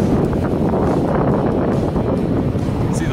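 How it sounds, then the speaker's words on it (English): Strong wind buffets the microphone in a continuous, loud roar with no letup on an exposed ledge of Mount Race on the Appalachian Trail in Massachusetts. "It's pretty damn windy too"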